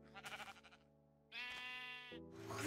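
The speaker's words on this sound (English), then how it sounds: "Look at those delicious sheep." Sheep in the Minecraft video game let out several short, clear bleats one after another, close and synthetic-sounding, with no talk over them.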